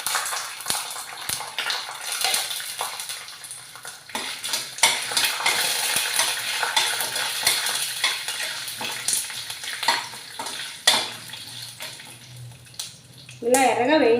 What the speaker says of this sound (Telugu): ఇలా చిట్టుపట్టు సౌండ్లు వచ్చిన తర్వాత ఆపేసి సరిపోతుంది